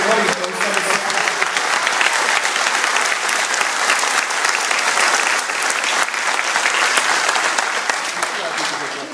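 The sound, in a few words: audience applause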